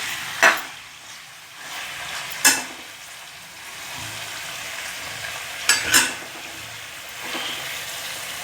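Meat and potatoes for an aloo chicken korma sizzle steadily in a pot, broken by a few sharp scraping stirs of a spoon against the metal, close and fairly loud.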